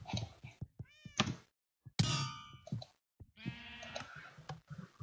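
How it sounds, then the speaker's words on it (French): Cartoonish meows from many little cats in a video game ring out in short bursts, mixed with metallic clangs and chiming effects, close and loud between quiet gaps. "Là, il y a plein de petits chats."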